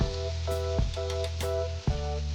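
Butter and diced white onion sizzle in a pan for risotto, a loud close hiss with a steady low hum beneath, interrupted by several sharp bursts and clatters as the onion is stirred.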